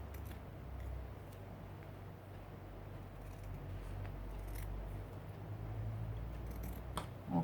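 Paper being trimmed with scissors for a collage makes faint, close snips and light papery rustles against a quiet background.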